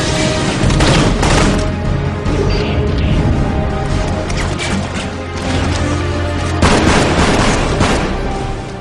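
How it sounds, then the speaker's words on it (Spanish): Gunfire from a ten-year-old shooting video game: loud, dense bursts of shots and crashing impacts repeat across the whole stretch, with no talking over them. "disparos por doquier"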